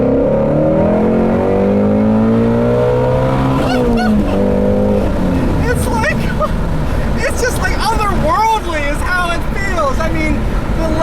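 A 2016 Shelby GT350 accelerating hard, its engine note climbing through the revs in loud, rising sweeps before settling into a steady drone, with someone talking over the cabin noise in the later part.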